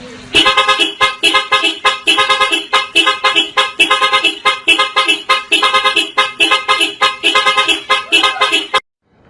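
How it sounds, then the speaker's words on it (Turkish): A car horn honks in a long series of rhythmic, repeated blasts, loud and close, with brief gaps between toots before stopping abruptly. "Direkt kornaya basıyoruz. Çalıyorum."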